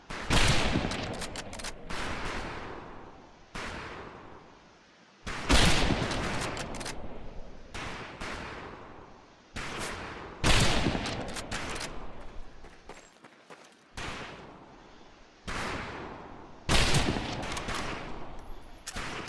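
Gunfire in Medal of Honor Pacific Assault during training, loud repeated bursts of rapid shots separated by short pauses, dense and close, with no voices.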